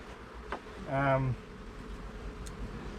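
Honey bees buzz loudly around full hive boxes in one close, droning swell about a second long, with fainter insect hum before and after.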